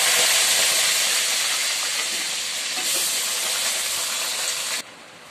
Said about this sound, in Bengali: এই দেখো, আমি সবজিটা এখানে দিয়ে দিয়েছি কড়াইয়ে। এটা আবার এখন ভাজা হবে।